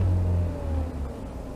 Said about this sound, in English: what I'm going to do is rev it up a little bit